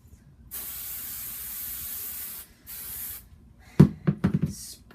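An aerosol can of wig spray hisses in two steady bursts, the first longer, followed by a few sharp knocks and taps nearby.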